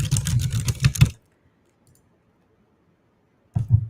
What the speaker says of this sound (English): But I wonder if I just keyboard spam.